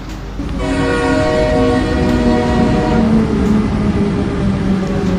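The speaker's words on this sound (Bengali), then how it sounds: "দূর থেকে হুইসেল বাজিয়ে ট্রেন ঢোকে প্ল্যাটফর্মে" A loud, sustained train horn blares over the heavy rumble of a train rolling into a station platform, the tone holding steady for several seconds.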